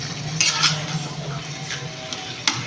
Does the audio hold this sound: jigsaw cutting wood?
no